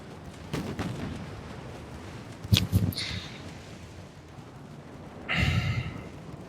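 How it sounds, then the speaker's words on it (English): A torpedo launching from a warship in the naval game Ultimate Admiral Dreadnoughts: two sharp bursts, a whooshing blast near the middle and another heavy rushing burst toward the end, over a low rumbling sea background. "That's a torpedo that's been launched."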